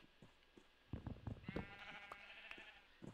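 Several short sheep bleats from Minecraft, fairly close and quiet, repeat in quick succession, then one longer wavering bleat follows.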